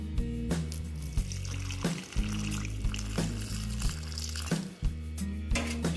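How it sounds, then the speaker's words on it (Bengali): Water is poured into vegetable paratha dough seasoned with kasuri methi and turmeric, making a steady close pour with a few sharper splashy onsets. A low constant hum runs underneath. "দিয়ে এবার আমি জল দিয়ে দেবো এখানে"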